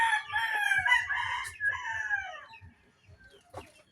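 Backyard chickens at close range: a rooster crows loudly for about two seconds with a rising and falling call, soft clucks and shuffling underneath, then fainter clucking and a brief squawk near the end.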